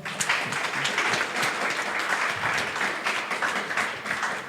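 An audience applauds at a French debate event, a dense, sustained round of clapping that stays fairly loud and even throughout, with no talk over it.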